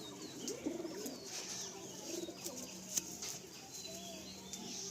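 A male green house pigeon at a Kolkata pigeon seller's shed coos faintly in low, wavering phrases amid light background noise and a few soft taps, with no talking.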